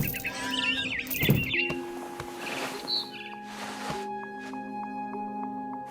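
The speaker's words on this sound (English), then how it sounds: "Then I heard chirping outside my window. It was a barn swallow going back to her nest." Barn swallow chirping in the video game What Remains of Edith Finch on PS5: a quick run of bright, warbling chirps in the first second or so, then fading beneath steady tonal ambient music and soft rustling.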